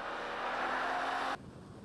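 Mazda MX-6 driving at speed through a handling test, a loud steady engine and road roar with a rising whine, cutting off abruptly near the end to a much quieter background.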